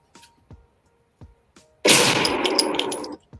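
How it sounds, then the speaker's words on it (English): A gunshot sound effect arrives as one sudden loud blast followed by a noisy, ringing tail lasting over a second, after a few faint clicks, with no talk. "Where your gunshot at?"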